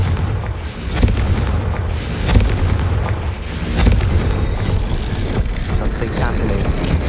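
Loud, dense burst of booming blasts and crackling from the Confringo fire spell in the Hogwarts Legacy video game, sustained throughout with several sharper explosive peaks, under a faint voice.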